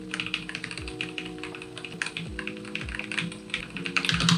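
Typing on an RGB mechanical keyboard with yellow switches: a quick, steady run of soft, close key taps with no voices over it.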